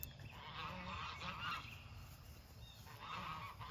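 Canada geese honking steadily on a cool morning, a flock calling in overlapping bursts at moderate distance, with outdoor ambience underneath and no talking.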